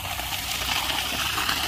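Water gushing from a 3-inch pipe fed by a 5 HP DC solar bore pump on a farm, a loud, steady, close rush and splatter with no pause.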